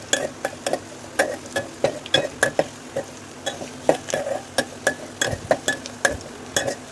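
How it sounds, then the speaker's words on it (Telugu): Onion, dried red chillies and green chillies frying in a pan for bendakaya pulusu, heard as a string of sharp, regular spatula taps and scrapes against the pan over a low background, close and fairly loud. "ఆనియన్, ఎండుమిరపకాయలు, పచ్చిమిర్చి వేసుకొని ఫ్రై అవ్వాలి ఒక 5 మినిట్స్ దాకా."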